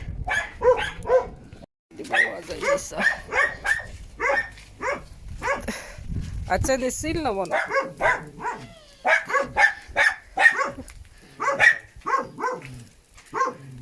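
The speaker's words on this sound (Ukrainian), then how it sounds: "собаки гавкають" Dogs in a family garden, where a barbecue grill is being lit, bark in repeated short bursts through the clip, mixed in with people chatting nearby.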